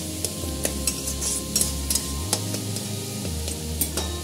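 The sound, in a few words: stirring egg omelette curry in a pan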